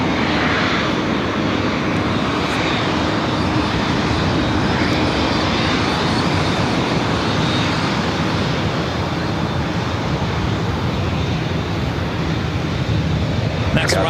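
An airliner pushing back at LAX bound for JFK, a loud continuous jet engine roar that stays steady throughout, with a voice speaking beneath it.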